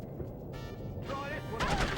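Gunfire in the spy video game No One Lives Forever, a short burst of close, loud shots overlapping game music and voices.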